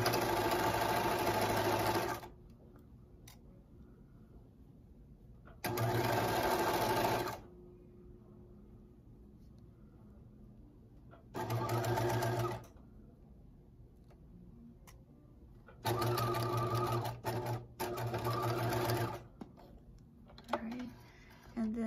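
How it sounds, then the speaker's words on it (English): A sewing machine running a zigzag seam finish on fleece: four or five bursts of rapid, steady stitching lasting one to two seconds each, close and clear, separated by quiet pauses with faint handling noise. "we're going to do a seam finish, a zigzag seam finish on this"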